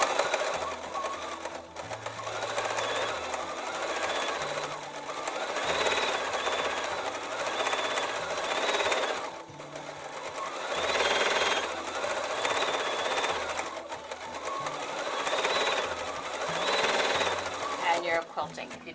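A Bernina B880 sewing machine quilts using its stitch regulator, giving a steady rapid mechanical chatter that rises and slows in repeating bursts as the fabric is moved, with a voice talking over it.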